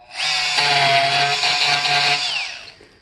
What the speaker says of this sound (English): One is by using this Dremel multi-tool.